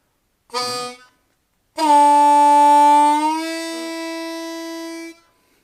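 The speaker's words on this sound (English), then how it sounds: "then we're going to scoop up into draw 2." A harmonica plays a short first note, then holds a long draw 2 that starts pre-bent and slides upward into its natural pitch. The tone is reedy and clear, sustained for several seconds before it stops.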